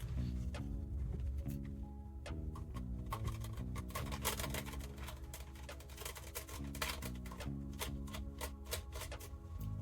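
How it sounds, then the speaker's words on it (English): Small screws being backed out of an old DV camcorder, a run of quiet ticking and clicking scrapes over a faint steady hum, irregular and close up. "I can take the rest of these screws out just to see."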